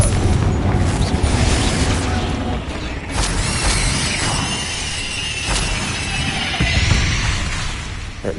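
Confringo fire spells blast in Hogwarts Legacy, a dense run of booming explosive bursts and crackling impacts layered over game ambience and music, with a few sharper cracks standing out.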